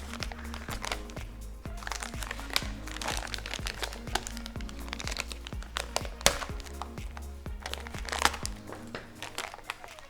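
Close, crinkly plastic of a military MRE pouch crackles and rips in quick bursts as it is cut open, over a steady rhythmic beat in the background.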